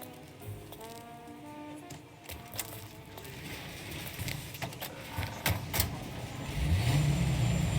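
Car driving in the video game Mafia Definitive Edition, a steady mid-pitched engine hum with scattered clunks and rattles, growing louder and rougher toward the end, with no talk.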